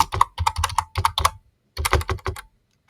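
Fast bursts of keystrokes on a computer keyboard as code is typed, loud and close, in two runs with a short pause between them.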